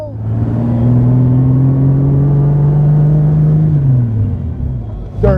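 A 1934 Jaguar SS1, engine still a little cold, pulls hard in second gear with a loud, steady mid-pitched drone that rises slowly before easing off near the end. A brief noise breaks in at the close.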